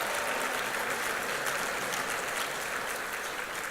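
Applause for union field directors and staff at a teachers' union leadership conference, sustained even clapping from a sizeable crowd, holding steady and tapering slightly at the end.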